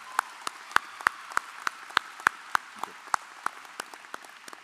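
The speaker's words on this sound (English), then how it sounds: "Round of applause for our board members." Sparse, evenly spaced single claps ring out at a high school graduation ceremony honoring school board members, each sharp hand clap standing out over a quiet, faintly murmuring room.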